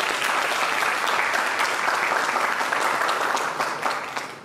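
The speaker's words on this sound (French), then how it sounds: "Applaudissez avec nous." Sustained crowd applause at a civil wedding ceremony in a town hall, dense and steady clapping throughout that fades slightly at the end, with faint voices beneath.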